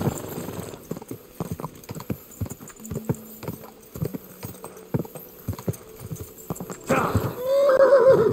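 Rapid hoofbeats of a galloping horse clatter close by, followed by a loud, shrill neigh near the end, in the video game Kingdom Come: Deliverance II.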